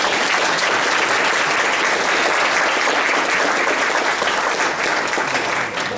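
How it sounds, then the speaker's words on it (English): Sustained applause from a large audience, loud and even, fading slightly at the very end. "I would like to thank the panel and give them 2 minutes of applause."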